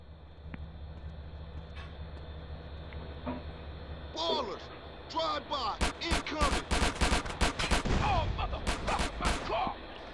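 Rapid bursts of gunfire and crashing impacts from GTA San Andreas gameplay, where gangsters shoot up a car, start sparse and then build to a dense, loud volley in the second half over a low game rumble.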